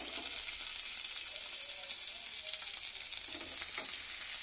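Garlic sizzles and fries steadily in a hot pan for a Kannada roti meal, a dense continuous crackle at moderate level with no talk.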